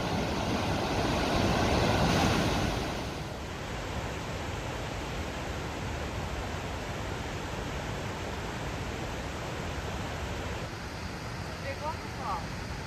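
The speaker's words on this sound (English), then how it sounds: "walk over this bridge with this pretty impressive waterfall" Big waterfall rushing beneath a footbridge on the Kungsleden trail on the way to Ammarnäs, a loud, steady broadband roar close by that swells briefly early on and then holds constant throughout.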